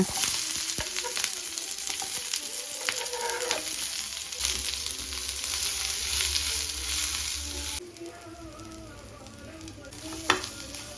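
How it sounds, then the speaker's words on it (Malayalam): Mustard seeds splutter and crackle in hot oil in a pan while making masala for dosa, a steady dense sizzle with scattered pops and a louder burst near the end. "ദോശയിലേക്കുള്ള മസാല ഉണ്ടാക്കാനേ ഓയിൽ ഒഴിച്ചിട്ട് കടുക് പൊടിക്കണേ"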